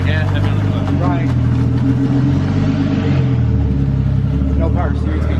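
Engine of a Nissan 240SX droning and revving under heavy throttle as it pulls away, loud and close inside the car, with people talking over it.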